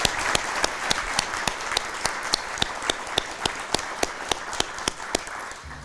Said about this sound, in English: if we could offer him our congratulations through a round of applause